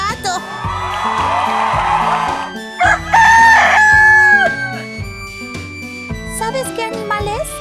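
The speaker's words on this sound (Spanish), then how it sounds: "¡Es un gallo!" A rooster crows, with a long, loud cock-a-doodle-doo call that rises and holds amid clucking and bright, playful music, set in a children's animal sound guessing game.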